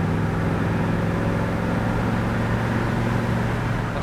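A 1973 Chevrolet Corvette on the move, its engine a steady loud drone with strong low harmonics and constant road noise, holding one even tone throughout with no clear gear change.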